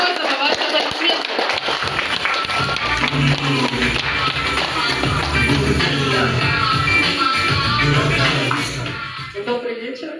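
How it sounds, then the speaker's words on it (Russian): An audience applauds a stand-up comic's first set as she is introduced. The crowd keeps up a continuous, fairly loud clapping mixed with cheering and murmuring voices, then tapers off near the end. "Это Ольга Каракозова. Ваши аплодисменты."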